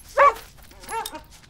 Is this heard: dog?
yes